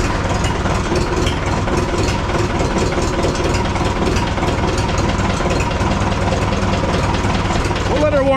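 A Minneapolis Moline Jet Star 3 farm tractor engine running with throttle applied, a steady, loud, close mechanical drone with a low rumble that holds without pause.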